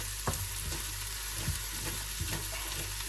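Onions sizzle and fry in a pan, with occasional stirring scrapes and soft clinks over a constant hiss.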